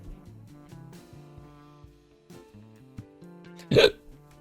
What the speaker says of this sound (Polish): aż mnie czkawka zaatakowała